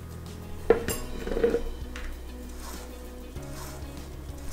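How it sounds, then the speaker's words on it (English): A wet spatula spreads carrot cake dough across a 28 cm cake pan, with a sharp clink against the metal, then soft scraping and a few quieter taps. "Spread the dough evenly with a wet spatula."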